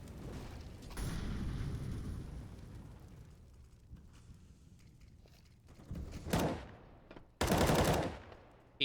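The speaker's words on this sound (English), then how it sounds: "You got MSL spamming some bullets away." Rapid bursts of spammed rifle fire in Counter-Strike on the Mirage map: a muffled spray early, then two sharp, loud volleys near the end over a quiet background.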